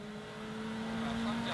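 Danny Sordo's WRC rally car at full commitment on stage 17 of Rally Spain, a steady engine drone with a sustained tonal whine, heard from a distance under commentary.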